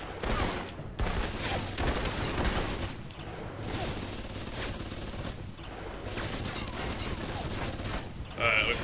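Pistol blind-fire gunshots in the video game Alpha Protocol, heard as a rapid series of sharp shots and bursts over busy game audio, with no clear talk.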